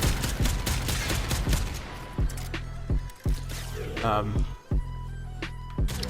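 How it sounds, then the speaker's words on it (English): Boar Prime shotgun fired repeatedly in the Warframe video game, a run of loud, punchy blasts in quick succession with a few spaced shots after, under talk. "As you can see now, it's used like an actual shotgun."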